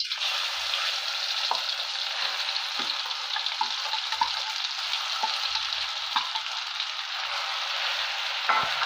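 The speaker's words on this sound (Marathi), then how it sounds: "वाटण छान परतून घ्या." Ground masala paste for a mutton curry frying in a pan, with a steady, close sizzle and occasional soft pops and stirring scrapes throughout, no talking.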